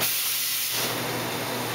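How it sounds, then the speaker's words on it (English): An espresso machine steam wand purged after steaming milk, a loud steady jet of hissing steam that swells to full strength partway through and continues, close and alone without talk. "you want to purge it again to blow any milk that got sucked up into the steam on out"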